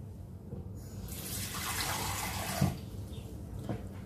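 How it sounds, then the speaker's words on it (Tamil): Water runs and splashes into a cooking pan of sugar on a stovetop, a steady close pouring rush lasting a few seconds with a small clink partway through. "தண்ணி கொஞ்சம் விட்டு இதை காய்ச்சி எடுக்க"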